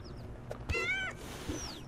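A cat in the video game Little Kitty, Big City gives one clear, drawn-out meow, close and moderately loud, with faint higher cat-like calls before and after against a quiet game background.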